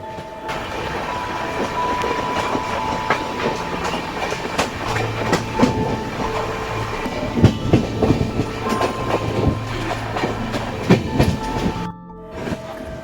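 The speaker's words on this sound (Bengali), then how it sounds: "পাশ দিয়ে গর্জন করতে করতে বেরিয়ে গেল কয়েকটা মালগাড়ি আর এক্সপ্রেস ট্রেন" The Saktipunj Express runs along the tracks with loud rhythmic clickety-clack and rumbling, wheels clattering over joints, heard close and steady before a brief drop near the end.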